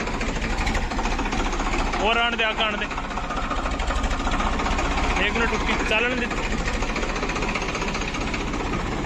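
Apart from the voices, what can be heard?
tractor engine running with PTO engaged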